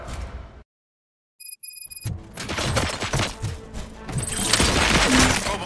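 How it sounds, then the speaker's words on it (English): Gunfire bursts in the video game RoboCop: Rogue City, a dense, loud volley of shots and crashing impacts after a brief silence, building into sustained chaotic firing. "Gunshots? What's going on?"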